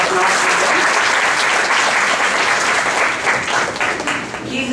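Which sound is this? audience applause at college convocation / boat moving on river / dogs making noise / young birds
audience applause at college convocation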